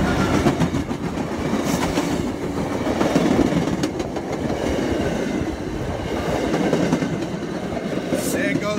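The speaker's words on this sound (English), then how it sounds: "there's a train coming, and I'm sure he's going to be honking his horn soon" A commuter train on Boston Marathon Monday rolls past with a constant heavy rumble and clickety-clack of wheels over the rails, loud and close for the full stretch, with a faint squeal near the end.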